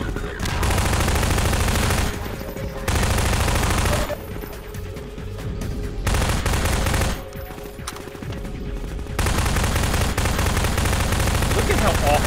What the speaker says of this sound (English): Look at how awful this SMG is.